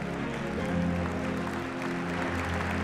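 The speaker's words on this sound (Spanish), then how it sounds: "Vamos a recibir con un fuerte aplauso en este escenario al ministro Sturzenegger" An audience at the Foro Meta RD 2036 event gives a steady wash of applause to welcome minister Federico Sturzenegger onto the stage, with a loud musical backing droning beneath the clapping.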